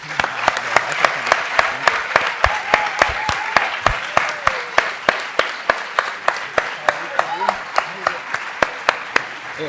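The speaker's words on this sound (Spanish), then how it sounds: "Vamos a despedirlo con otro gran aplauso." Audience applause at a book presentation on the Popular Front of 1936, a dense, steady round of many hands clapping with sharp individual claps standing out, lasting the whole stretch.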